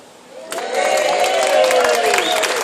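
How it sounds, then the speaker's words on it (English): At a wedding, guests applaud the ushers: after a quiet moment, clapping and cheering voices swell up together and continue as a full, steady round of applause. "Give them a round of applause anyway."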